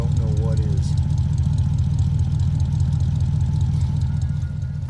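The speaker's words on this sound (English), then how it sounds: "If that isn't a sweet flathead V8 idle, I don't know what is." A 1950 Ford Custom Deluxe flathead V8 idles with a steady, throbbing low burble, loud and close, with someone speaking briefly near the start.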